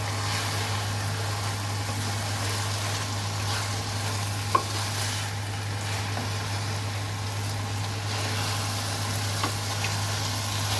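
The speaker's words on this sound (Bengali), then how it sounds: "জল দিয়ে দিলাম এখন নেড়ে চেড়ে মিক্স করে নিচ্ছি" A dish is stirred and mixed in a pan just after water goes in, soft scraping and gentle sizzling over a steady low hum, with an occasional light knock of the utensil.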